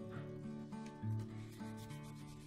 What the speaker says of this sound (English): give it a little rub